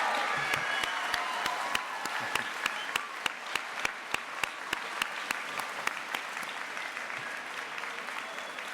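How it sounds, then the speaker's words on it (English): A crowd at a high school graduation ceremony claps steadily in sustained applause, dense and continuous, with a few sharper individual claps standing out near the front. "please stand so we can give you a round of applause"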